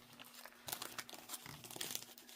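Homemade stickers being peeled off cellophane, a faint close crinkling and tearing rustle that comes in uneven bursts over a couple of seconds.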